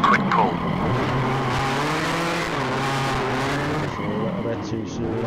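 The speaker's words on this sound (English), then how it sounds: "Before the corner, turn hard into it and give the handbrake a quick pull." A rally car in the Richard Burns Rally video game makes a handbrake turn into a hairpin, heard as a loud, sustained tire skid over engine drone. A voice talks on top of it throughout.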